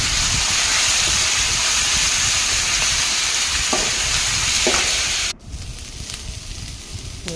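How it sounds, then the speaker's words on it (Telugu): Peanuts for a chutney sizzle in a pan with a steady loud frying hiss and a few stirring clicks, then the sizzle drops sharply to a quieter, thinner crackle near the end. "ఒక 2 మినిట్స్ ఫ్రై చేసుకోవాలండి"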